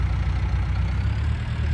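A small tractor engine idling steadily, a low, even rumbling throb that stays constant and fairly close with no talking.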